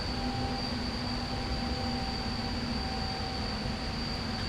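Steady low rumble of an ET25 Dragon electric locomotive hauling a heavy fuel freight train in the Simrail game, with a continuous drone and faint high whine held at even loudness throughout, no voices.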